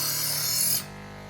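A loud, steady electric grinding rasp of a knife blade in a CHEFKOCH PRO KFC-30 electric sharpener, running continuously then cutting off abruptly into a quieter motor hum.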